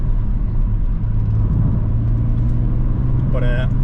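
A tuned 3-litre car drives along country lanes, its engine droning steadily inside the cabin while a voice talks over it.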